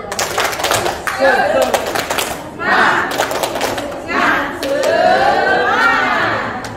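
A group at a teachers' workshop at Siantar Hotel performs a rhythmic spirit clap, loud bursts of claps in patterned beats broken by chanted voices between them.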